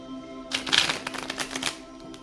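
A deck of tarot cards is riffled and shuffled in a quick burst of crisp flutters, close and fairly quiet.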